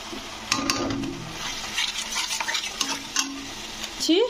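Ground spices such as turmeric, coriander powder and dried fenugreek leaves being stirred and fried in a pan for a jackfruit curry, giving a soft, steady sizzle with a spoon scraping now and then and brief clinks.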